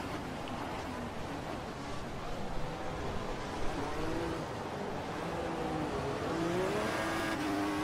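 Formula 1 racing cars in a video game roar steadily and densely, several engines overlapping in a continuous buzzing drone that rises and falls in pitch without letup.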